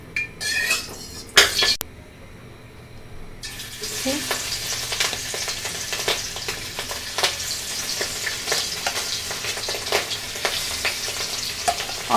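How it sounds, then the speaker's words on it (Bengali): Hilsa fish pieces go into hot oil in a wok with a few clinks of the utensil, then a loud, steady sizzle of frying takes over and continues to the end. "এখন আমি ইলিশ মাছগুলো এখন একে একে ভেজে নেব।"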